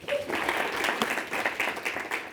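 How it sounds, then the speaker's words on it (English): An audience applauds for a visiting speaker at a reading event, steady moderately quiet clapping from a crowd that fills the whole short moment. "So let's give him a round of applause."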